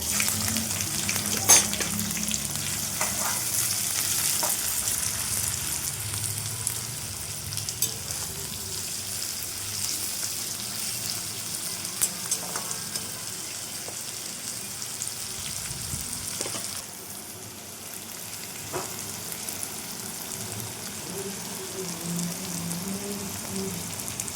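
Thinly sliced onions frying in hot oil for biryani, a steady dense sizzle and crackle that holds for the whole stretch, with occasional faint stirring scrapes and no talk.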